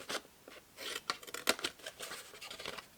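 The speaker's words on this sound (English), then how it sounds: "Cut straight up the rectangle" Scissors snipping patterned card stock for a small tent box, several crisp close cuts and light paper rustles at a soft level, with no voices.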